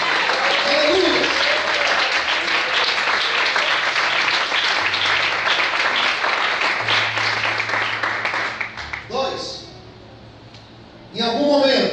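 A church congregation applauds loudly and steadily for about nine seconds while a voice rises over the clapping, which then fades to quiet before a loud voice cuts back in.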